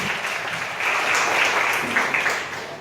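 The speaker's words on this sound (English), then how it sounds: "please clap for her" Audience applause for a woman at a motivational speaking event, a steady wash of clapping hands held for about three seconds with no voices over it.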